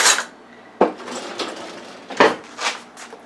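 A heaping tablespoon of garlic goes into a pot, heard as a sharp metallic clink of the spoon against the rim, a scrape, another clink, then lighter rattles, all close and with no talk.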